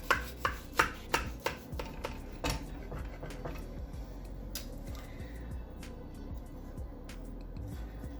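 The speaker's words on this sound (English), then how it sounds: "you can already hear it's got that nice crispiness to the pastry" A knife crunches through the crisp pastry of an apple blackberry pie in a quick run of sharp cracks, then fainter scraping and rubbing as the cutting continues, close up.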